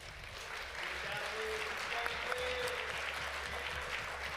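Applause fills a city council chamber at City Hall, a steady wash of clapping from a crowd, heard somewhat distant and faint under a voice speaking.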